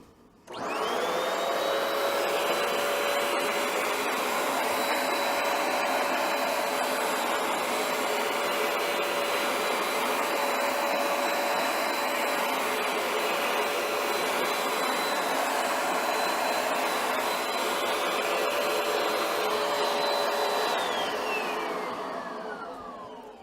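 A Hoover PowerDash Pet FH50700 carpet cleaner runs continuously on carpet for about twenty seconds, giving a loud, steady motorized whir with a high whine. It starts up and winds down at the ends, and no one speaks.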